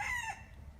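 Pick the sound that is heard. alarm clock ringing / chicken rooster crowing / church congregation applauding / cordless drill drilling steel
chicken rooster crowing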